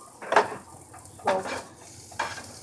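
Pre-cooked sausages on a stovetop pan are turned with tongs and a spatula, giving three distinct metallic scrapes and clatters over a soft background sizzle, close by.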